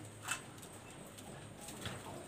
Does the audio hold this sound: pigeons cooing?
yes